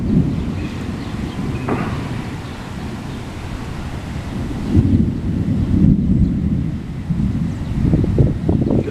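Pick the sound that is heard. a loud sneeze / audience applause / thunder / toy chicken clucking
thunder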